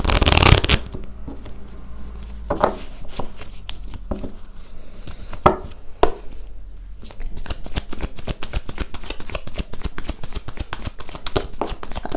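Thelema tarot cards are shuffled by hand in close, rapid bursts of riffling and soft slapping, with brief pauses between runs.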